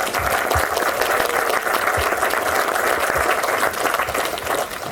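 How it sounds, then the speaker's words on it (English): Wedding guests applaud together, a full, steady round of clapping with a few louder nearby claps standing out, easing off slightly toward the end. "So please give yourselves a round of applause."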